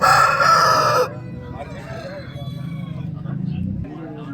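A native country rooster at a busy Sunday chicken market in Vijayawada crows loudly for about a second, followed by market chatter and people talking nearby.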